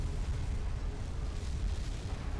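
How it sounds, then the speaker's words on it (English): A huge explosion in the video game F.E.A.R. Extraction Point fills the scene with a loud, sustained low rumble that roars without a break. "We survived that huge explosion."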